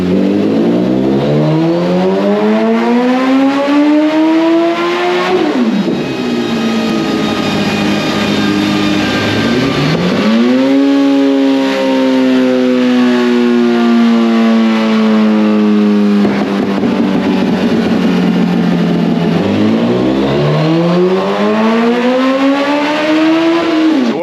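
A 2005 nitrous-fed Suzuki Hayabusa running on E85 screams through repeated dyno pulls, the engine climbing in pitch, dropping back and winding up again, loud and close with no talking.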